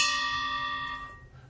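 A First World War trench gas alarm bell, rung hard and vigorously, gives a single bright metallic clang that rings out with sustained overtones and decays over about a second and a half, close and alone.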